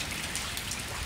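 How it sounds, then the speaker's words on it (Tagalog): Steady rain falls and patters on surfaces on a rainy day, a dense, even hiss of drops with no gaps, close and moderately loud, with no voices. "Tingnan nyo ang ulan."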